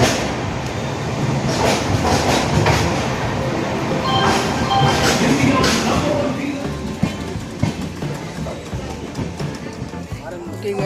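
An LHB passenger train from Salem to Rameswaram rumbles steadily along the tracks with broadband noise and occasional clicks, while people talk over it throughout.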